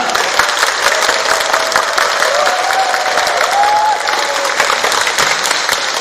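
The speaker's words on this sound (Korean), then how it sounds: "뜨거운 박수 부탁드리겠습니다" Applause from an outdoor audience at a volunteer-group peace-sharing event at the Yeoju Silleuksa open-air stage, dense steady clapping throughout with a faint murmur of voices underneath.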